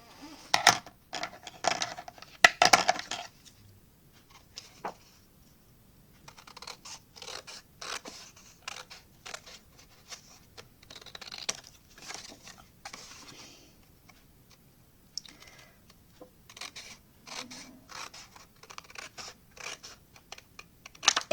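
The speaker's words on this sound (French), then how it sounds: "je prends le ciseau" Scissors snip through folded paper while making a fan-shaped card decoration, giving a run of crisp, close cuts in uneven bursts with short pauses between strokes.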